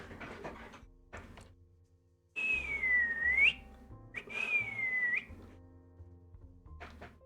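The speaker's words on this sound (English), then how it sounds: "if you really want to hear me whistle" Two separate whistled phrases from a person, each a gliding tone that dips and then rises sharply at the end, heard close and quiet amid faint rustling and small knocks.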